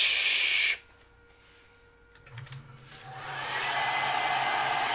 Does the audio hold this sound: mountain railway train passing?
no